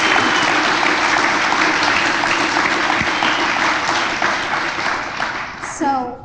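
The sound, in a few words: audience applause for educators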